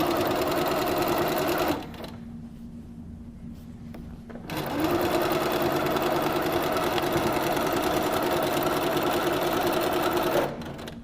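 A Little Rebel sewing machine stitching through layered binding fabric, a loud rapid mechanical whir running close, pausing for a couple of seconds, then resuming steadily before briefly stopping near the end.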